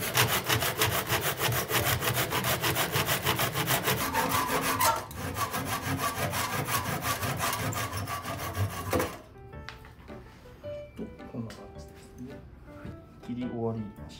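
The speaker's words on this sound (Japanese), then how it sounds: "まずここの出てるこの棒の突き抜けたやつですね、 はいはい、 が、邪魔なのでこれを一旦切ります。" A saw cuts rapidly back and forth through protruding wooden hammer shanks on a grand piano under overhaul, loud and close with steady strokes that stop about two-thirds through, followed by quieter handling noises and talk.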